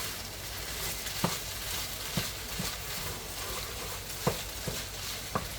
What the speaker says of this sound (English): We're still working on getting the potatoes good and brown.